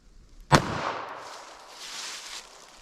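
A single sharp .380 ACP pistol shot with 95 grain FMJ ammunition fired into ballistics gel, one loud crack followed by a fading outdoor echo and low rumble.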